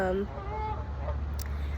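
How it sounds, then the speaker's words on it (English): Ducks in their natural habitat let out a few quick honking quacks at the start, followed by softer calls over a steady low background rumble outdoors. "The beautiful sound of ducks in their natural habitats."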